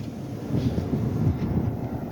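Orange Line train slowing near Roxbury Crossing station, a steady low rumble of wheels and motor with a faint high whine, continuous and fairly close, no voices.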